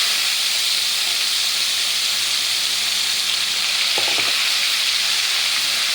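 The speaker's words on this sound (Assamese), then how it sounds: "মই এতিয়া নিমখ আৰু হালধি যে চিকেনখিনি ঠানি থৈছিলোঁ, এতিয়া মই এইখিনি প্ৰথম ফ্ৰাই কৰি ল'ম।" Chicken pieces marinated in salt and turmeric fry in hot oil in a wok, giving a loud, steady sizzle throughout with a couple of faint utensil clinks partway through.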